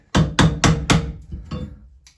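Light tapping on a clamped Pfister shower cartridge: four sharp metallic taps in a steady rhythm, then two softer ones, close and clear with no talk.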